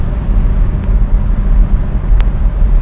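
A restored 1963 Jaguar MK II with electronic overdrive pulls strongly along the road, its engine a loud, steady low drone mixed with road rumble and no voices.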